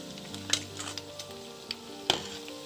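Potato and egg snack frying in a pan, a soft steady sizzle with a few sharp crackles and pops as pieces are turned over, close and moderately quiet with no talking.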